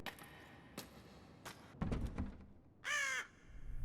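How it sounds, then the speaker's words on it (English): A crow caws once in Spirit Hunter: Death Mark, a short, harsh, fairly loud cry that follows a few faint knocks and thuds in an otherwise quiet scene. "I guess there's a crow or something outside."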